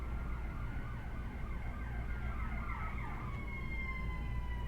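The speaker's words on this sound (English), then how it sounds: "Cue siren." An emergency vehicle siren wails outside in steady rising and falling sweeps, heard at a moderate distance over a constant low traffic rumble.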